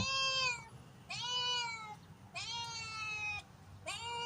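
A cat meows four times up close, each call drawn out and whiny, with short pauses between.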